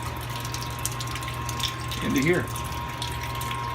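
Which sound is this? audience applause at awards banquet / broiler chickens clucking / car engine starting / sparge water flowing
sparge water flowing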